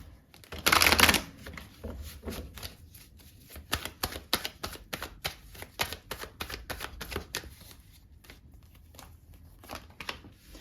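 Tarot cards shuffled by hand in a quick burst of riffling, then a long run of crisp separate card flicks and taps, close and fairly quiet, with no talking.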